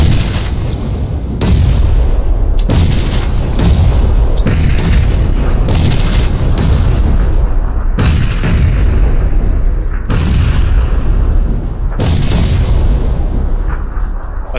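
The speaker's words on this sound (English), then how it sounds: "I'm throwing so many nades up there." Grenades explode again and again in a video game firefight, about a dozen loud booming blasts landing in rapid succession across the clip, each with a sharp crack and rumbling tail.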